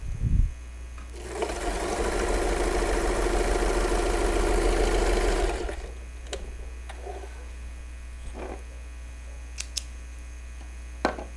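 A home sewing machine stitches its widest zigzag in one steady, loud buzzing run of about four seconds, close up, then stops and leaves faint handling clicks and a low mains hum.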